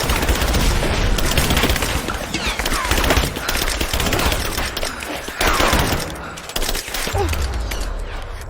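Sustained covering fire in Rise of the Tomb Raider, dense and loud automatic gunfire rattling almost without pause, with a few heavier bursts standing out.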